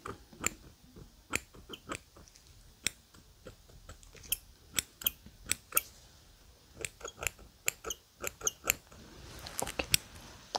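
Scissors snip repeatedly during a French-language ASMR alien autopsy roleplay, a close, crisp series of sharp clicks and cuts at an irregular rhythm with short pauses and no talk.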